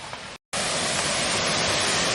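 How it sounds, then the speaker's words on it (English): Rushing water pours over a historic dam waterfall at Cedarock Park in Burlington, NC, a loud, unbroken roar that cuts out completely for a moment before returning at full strength. "Hopefully you guys can hear me over the rushing water."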